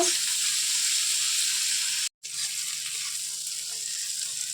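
Prawns fry lightly in hot oil, giving a bright, even, close hiss that holds steady apart from a brief dropout midway, with no talking.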